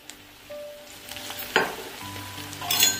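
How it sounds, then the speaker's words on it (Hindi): A ginger, garlic and chili paste fries lightly in a pan, giving a soft, steady sizzle with clinks and scrapes as it is stirred, and a brief louder burst of sizzling near the end. "अब मैं इसको हल्का सा फ्राई करूंगी।"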